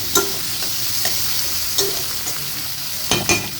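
Onions fry with a pinch of salt in a pan, giving a steady close sizzle broken by a few sharp scraping stirs.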